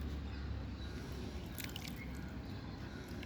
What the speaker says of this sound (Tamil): நீங்கள் இந்த ஊற வச்ச தண்ணியவே கொஞ்சம் தெளித்து விடலாம்